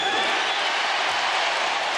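Basketball arena crowd at a 2000 playoff game, Milwaukee Bucks at Indiana Pacers, reacting to Reggie Miller: a steady, dense roar of many voices, loud and unbroken, with no distinct single sounds standing out.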